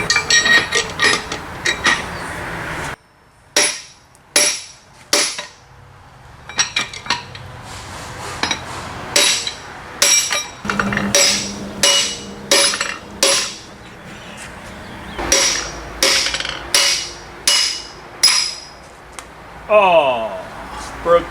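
Metal strikes ring out in irregular bursts while an Oldsmobile 455 big-block shortblock is torn down and its pistons are hammered out. The sharp clanks come close and loud, with brief pauses between bursts and a little talk mixed in.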